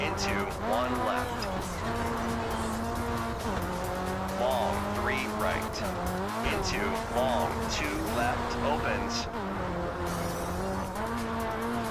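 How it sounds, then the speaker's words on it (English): A rally car slides across snow in RalliSport Challenge 2 on Xbox, its engine droning steadily with rising and falling revs and tyre scrub throughout, while a voice talks over the whole stretch. "as the car slides from the left to the right, wherever the back of the car is positioned is where the audio comes from"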